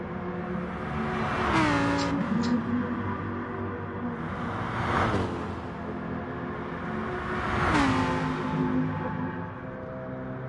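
Lamborghini Huracán V10 racing in a PS4 video game, engine revs climbing and dropping through gear shifts with a couple of rising surges near 5 and 8 seconds, loud and continuous, no voices.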